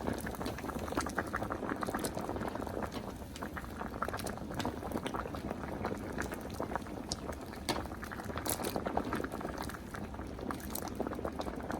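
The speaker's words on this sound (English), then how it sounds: "We're going to set them on the stove and let them boil on high until they're nice and tender." Potatoes boil on high heat in salted water on the stove for mashed potatoes, making a dense, steady bubbling roll and close rattling patter that never lets up.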